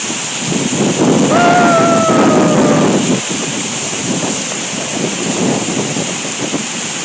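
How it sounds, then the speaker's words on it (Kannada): Heavy rain pours in a loud, steady hiss close to the microphone, with a brief whistling tone near the start. "ಎಷ್ಟು ಜೋರಾಗಿ ಮಳೆ ಬರ್ತಿದೆ"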